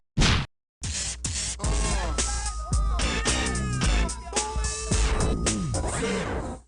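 Cartoonish cat meows and yowls from the quiz game You Don't Know Jack Vol. 3, loud and close, mixed with whacks and whooshes in a short comic burst that begins after a brief gap.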